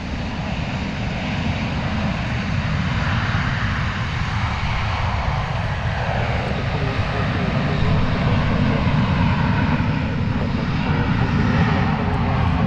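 An American Airlines jet, flight 2747 bound for San Diego, takes off from runway 36 right at DFW with a loud, steady roar that holds strong and unbroken throughout.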